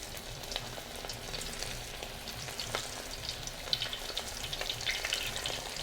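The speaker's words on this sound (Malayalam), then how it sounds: "ഈ കോളിഫ്ലവർ ഒന്ന് നമുക്ക് ഫ്രൈ ചെയ്തെടുക്കാം" Batter-coated cauliflower deep-fries in hot oil in a wide uruli pan, a continuous close crackling sizzle with scattered sharp pops, no talking.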